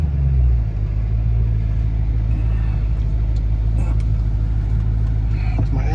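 A car engine rumbles steadily at close range as the car is parked, a low continuous drone with a slight rev at the start and faint background sounds, no talk.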